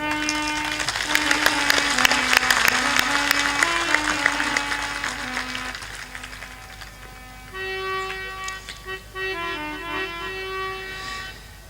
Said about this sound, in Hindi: इज्जत का सवाल है, ताली तो बजा दिया करो जोर में।